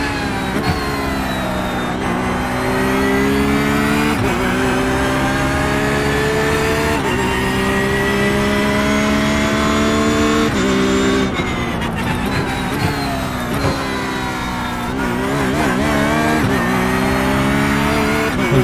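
Porsche 911 GT3R race car engine lapping Bathurst in the iRacing simulator, a loud, continuous high-pitched howl rising through the revs with repeated sharp gear shifts and downshift blips, heard alone without talk.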